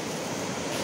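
Rough sea waves surge onto Dande beach on the Konkan coast, a loud, dense wash of surf and wind roar filling the moment with no voices.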